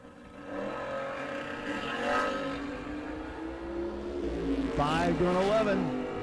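Door cars drag racing side by side at a Moser Engineering door car event, engines roaring steadily with a rising, sweeping howl near the end, heard under an announcer's continuous commentary.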